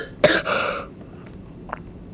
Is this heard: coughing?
yes